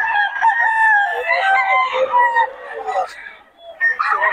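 Several roosters crow one after another at a chicken market, loud and close, with harmonic calls overlapping and a clucking chicken briefly near the end.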